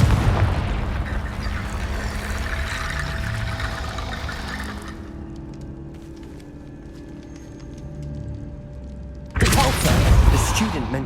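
A Confringo fire spell blasts in the video game Hogwarts Legacy, a booming burst with a rushing roar that fades into a quieter rumbling tail, then a second loud crackling burst near the end.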